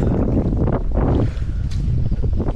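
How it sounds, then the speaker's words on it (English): Strong wind buffets the microphone on a fishing boat on the California Delta, a loud, steady, close roar that keeps going for the whole clip with no talking. "This wind is blowing me all over the place."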